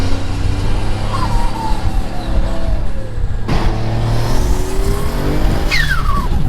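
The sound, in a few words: Mitsubishi 3000GT car driving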